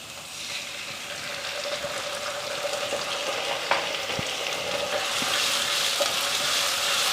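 Chopped onion with ginger garlic paste sautéing in a pan for a kabuli chana gravy, a steady close sizzle that slowly swells, with a few faint clicks of stirring.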